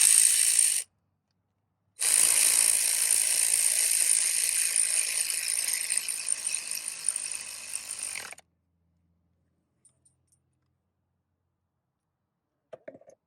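A ratchet tightens an idler pulley bolt on a Mercedes-Benz BluTec engine, giving close, rapid metallic clicking in a short burst, then a longer steady run of several seconds before stopping, with no talking.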